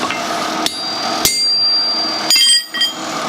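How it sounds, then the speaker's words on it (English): Hammer striking a dot punch into metal lands several sharp, loud blows close by, each one ringing afterward. "I'm going to dot punch it actually."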